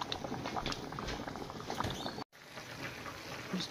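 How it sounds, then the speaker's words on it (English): Noodles boil in a pot, giving a close, continuous bubbling and popping patter with a brief dropout partway through before the boiling resumes. "Here's my noodles. They're boiling."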